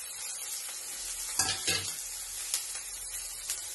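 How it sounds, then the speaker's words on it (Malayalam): Garlic hitting a hot pan for a beans curry crackles into a soft, close sizzle, with a brief louder burst of spattering near the start and scattered pops after it. No one speaks. "വെളുത്തുള്ളി ഇട്ട് കൊടുക്കാം"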